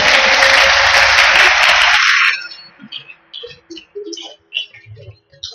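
A church congregation claps loudly in dense, sustained applause for about two seconds, then it cuts off abruptly, leaving faint scattered sounds and murmurs.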